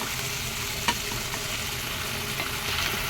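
Katla fish curry spice masala frying in oil with splashes of water, a steady close sizzle with occasional faint stirring scrapes throughout, no voices.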